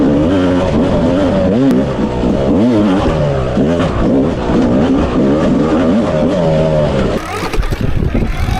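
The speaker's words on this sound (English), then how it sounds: "I can hear that Yamaha though." Yamaha dirt bike on a rough off-road trail, its engine approaching and revving hard in loud, wavering bursts that rise and fall continuously, with a brief change in tone near the end.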